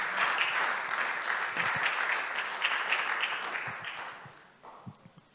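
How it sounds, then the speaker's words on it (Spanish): A church congregation claps during a worship service: dense, loud, sustained applause that thins and fades in the final second, with scattered voices underneath. "Dale palmas al Rey de Gloria,"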